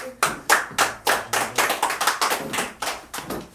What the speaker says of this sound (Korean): 우리 강사 목사님에게 우리 감사의 박수